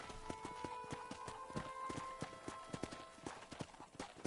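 Horse hooves clip-clopping in a farming video game, a steady walking rhythm of sharp close knocks with a low tonal hum underneath.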